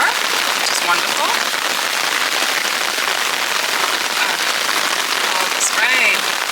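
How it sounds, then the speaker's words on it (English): Steady rain falls outdoors in a garden, a dense, even hiss of drops on surfaces all the way through, with a few faint bird chirps in the distance. "Oh, this rain."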